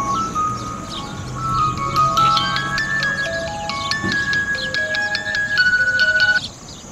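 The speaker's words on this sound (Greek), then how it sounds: "Ας πάρω και το Γιούρι τηλέφωνο." An electronic ringtone melody plays loudly while an outgoing phone call rings, a sequence of bright repeating tones looping for several seconds with no talking.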